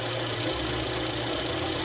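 Car engine idling at a steady speed, around 800 to 1000 rpm, while a second-generation LPG system is tuned. A continuous low rumble with a faint knock runs throughout, close and alone with no talk.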